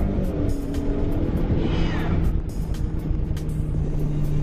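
A Ford Mustang driven in Dallas revs hard and pulls through its gears, a loud steady engine drone with a rising shift sweep midway, heard from inside the car.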